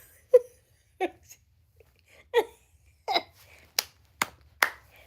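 Sharp, close hand claps ring out one at a time, about eight of them spaced unevenly over several seconds against a near-silent background.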